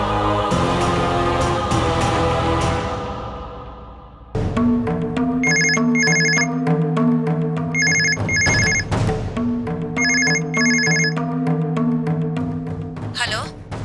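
A telephone rings on an outgoing call to a mother in a Telugu TV serial, its repeated paired ring bursts sounding clearly over a steady background music bed.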